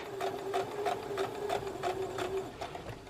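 Sewing machine stitching a curved quilt block, a steady run of rapid needle strokes with a mechanical hum, close and continuous, a faint voice briefly behind it.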